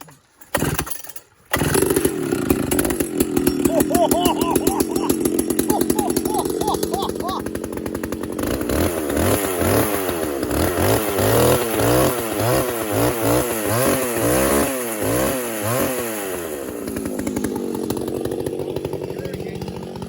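A McCulloch SP125 chainsaw, run after 15 years in storage, sputters through pull attempts, catches, then roars loudly and close, its engine revving up and down in repeated surges before settling to a steadier idle.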